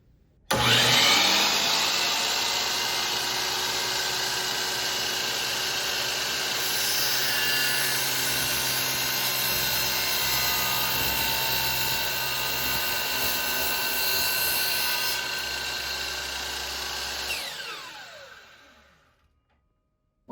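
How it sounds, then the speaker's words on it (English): Miter saw cutting through a part, the motor snapping on and holding a loud steady whine with the blade grinding through the material for about seventeen seconds, then spinning down and fading to silence, with no talking. "pushing down starts the miter saw"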